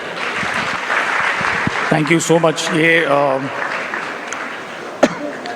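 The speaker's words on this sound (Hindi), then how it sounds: "एक बार जोरदार तालियां हो जाए" Brief, fairly loud clapping from an audience at a live interview event with a film director fills the opening seconds, then gives way to someone speaking.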